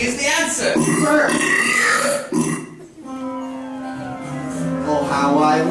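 Burping in a musical film scene where characters float and must burp to come down: loud, long croaking belches and voiced burp sounds, overlapping with singing voices and music.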